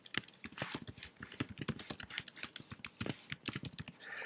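Rapid typing on a computer keyboard, a close, dense run of light key clicks with a few brief pauses, heard alone without speech.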